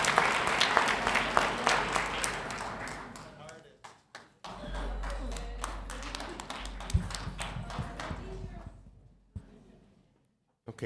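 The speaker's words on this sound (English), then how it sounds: "Let's give Dariana another round of applause, please." School board meeting audience applauding after the Pledge of Allegiance, a full room of clapping that builds, dips, resumes and then tapers off to near silence, with some talk mixed in.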